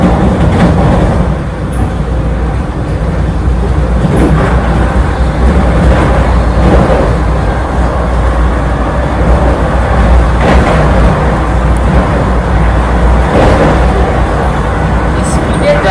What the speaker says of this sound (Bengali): দেখো কত স্পিডে ট্রেন যাচ্ছে